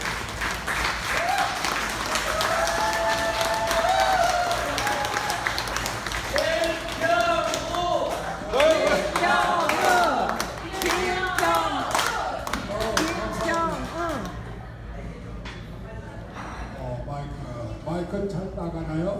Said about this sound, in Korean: 크게 박수 한번 해주십시오